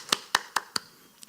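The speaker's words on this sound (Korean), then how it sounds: "우리 한번 크게 박수하겠습니다" Four sharp, evenly spaced handclaps ring out at a women's Wednesday prayer meeting in a church, followed by a fainter fifth clap. The claps are close and clear, with no voices over them.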